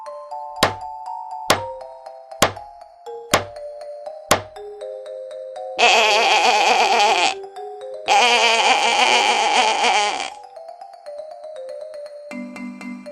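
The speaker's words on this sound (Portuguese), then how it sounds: "o som da ovelha é longo" A sheep gives two long, loud bleats, each lasting a second or two, after a run of sharp hammer-like strikes.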